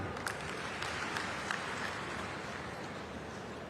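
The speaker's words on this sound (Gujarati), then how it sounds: "એમના માટે એક તાળી પાડી દઉં." An audience at a political gathering in Banaskantha, Gujarat, claps together in a continuous, fairly faint patter of applause heard from a distance, with scattered sharper claps standing out.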